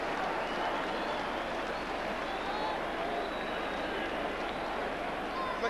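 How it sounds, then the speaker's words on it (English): Football crowd at a Sheffield United match roaring steadily after a goal, a dense, continuous wall of cheering and applause that holds at an even loudness throughout. "A goal greeted with some relief by the crowd, as Norman can only look disappointedly."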